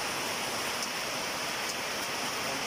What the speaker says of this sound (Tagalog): Talagang malakas na ulan ngayon.